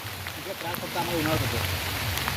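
Rain falls outdoors with a steady, even wash of drops, while a person speaks over it for much of the time.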